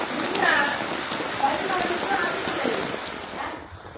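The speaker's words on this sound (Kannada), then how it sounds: "ಸಣ್ಣ ಮಳೆ ಬರ್ತಾ ಇದ್ದು ದೊಡ್ಡ ಮಳೆ ಬಂದು ಹೋಗಿ ಸಣ್ಣ ಮಳೆ" Steady light rain patters across the clip, a soft broadband hiss with faint scattered drops, fading slightly near the end.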